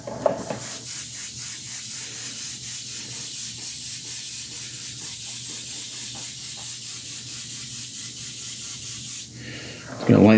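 An airbrush mists medium flesh-toned paint onto a 1/3-scale Juggernaut figure, a soft continuous hiss held steadily for several seconds, close and even, with faint scrubbing texture beneath.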